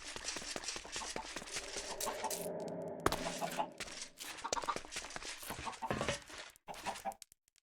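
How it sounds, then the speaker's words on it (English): Chickens cluck in a Minecraft modpack game world, a busy mix of short clucks and pecking-like clicks mingled with other game sounds, with a voice speaking over part of it. "A lot of chickens."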